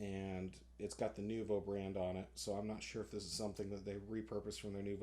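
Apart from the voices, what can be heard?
No distinct noise like a dog, phone or traffic.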